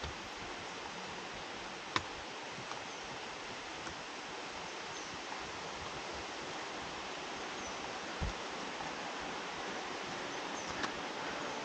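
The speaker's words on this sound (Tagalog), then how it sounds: "After 20 minutes na pag-hike, narating na natin ang Busay Falls." Busay Falls in Guinlajon, Sorsogon City pours steadily, a constant broad rushing roar at moderate distance, with a few faint ticks and rustles over the continuous water noise.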